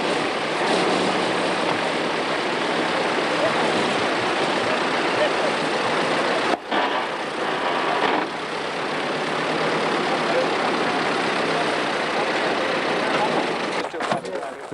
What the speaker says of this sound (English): Nick Whittaker's 1911 Darracq 1115 horsepower